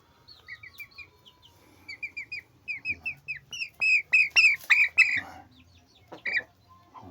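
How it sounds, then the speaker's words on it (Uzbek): A small young rooster clucks and chirps in a run of short calls that grow louder and denser toward the middle, then trail off, heard up close with no talk. "Xorozcha bu."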